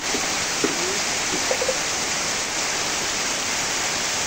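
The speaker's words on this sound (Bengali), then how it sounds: "প্রচুর বৃষ্টি নামতেছে" Heavy storm rain pours down at Pakutia market in Nagarpur, Tangail, Bangladesh, in a loud, steady hiss that never lets up.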